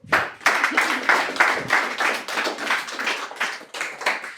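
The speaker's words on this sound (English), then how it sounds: "So you need to clap for us." A crowd claps steadily at the Accra preliminary round of a 2023 Grand Slam contest, a dense, sustained round of hand claps that stays fairly loud throughout.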